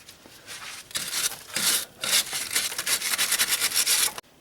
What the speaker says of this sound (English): Gonna clean up the upper ball joint.